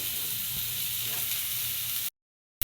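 Drumstick vegetable pieces fry in oil with turmeric and salt in a kadai, giving a steady, close sizzle and hiss that runs evenly before cutting out abruptly near the end.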